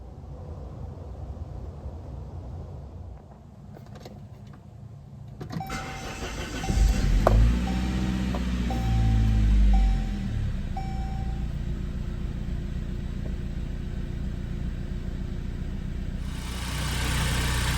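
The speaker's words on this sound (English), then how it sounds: "Now that we got the engine running" A 1997 Saab 900 Turbo engine cranks and catches, then settles into a steady low idle that runs on, with a brief rising rev partway through.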